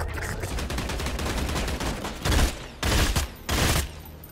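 Burst-fire weapon in a video game, rapid clusters of gunshots followed by three distinct loud bursts close together near the end.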